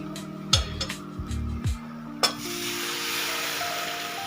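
A metal spoon clinks and scrapes in a pan of masala paste fried in oil, then water goes in and sets off a sudden loud hiss that settles into a steady sizzle.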